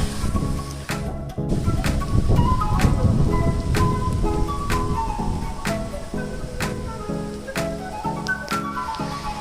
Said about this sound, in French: la pluie, plus le vent, quand tu l'as de face, tu prends des grosses rafales de pluie